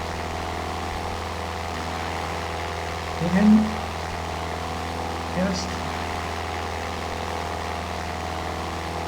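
A Cessna propeller plane's engine in the Aerofly FS 4 flight simulator, a steady droning hum with constant tones across the whole stretch, while someone talks briefly over it.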